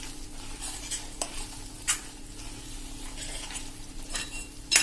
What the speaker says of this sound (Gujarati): આ રીતે આપણે બધું સરસ મિક્સ કરી દઈશું